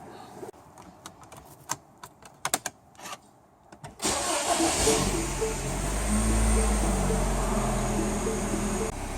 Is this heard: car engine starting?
yes